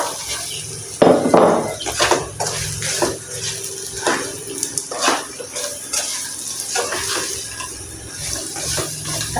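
Tofu stirred in a frying pan with a spatula, a steady wet scraping and soft sizzle running throughout, loudest at the start as the pieces go in, with no talking.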